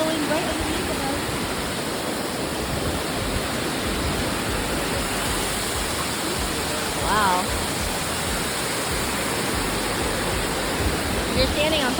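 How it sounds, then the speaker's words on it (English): A waterfall rushing directly beneath a viewing spot on a family hike, a loud, continuous roar filling the whole clip, with a brief exclaimed word and faint voices over it. "We're standing over a waterfall, Logan. Look. It's going right underneath of us."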